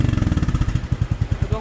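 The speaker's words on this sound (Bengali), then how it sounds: "দেখতে পাচ্ছেন রয়্যাল এনফিল্ড ক্লাসিক 350 সিসির একটি বাইক কিন্তু স্টার্ট করে দিয়েছি" A Royal Enfield Classic 350cc motorcycle engine runs after starting, with a heavy, even low thump of firing pulses close by over less than two seconds.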